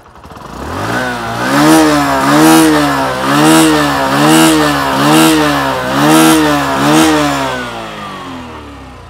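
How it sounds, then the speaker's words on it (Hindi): A Bajaj Platina 100 motorcycle engine runs nearby, revving up and down in repeated smooth waves with a throaty exhaust note, steady and loud throughout. "आइए बाइक स्टार्ट कर लेते हैं, इंजन साउंड सुन लेते हैं और इनका एग्जॉस्ट नोट भी सुन लेते हैं।"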